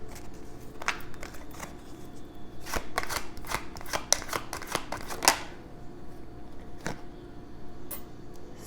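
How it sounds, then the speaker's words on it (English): A tarot deck being shuffled by hand: a run of crisp riffles and card flicks, close and fairly quiet, bunched in the middle with a few stray taps before and after. "Okay, let's pull a tarot card."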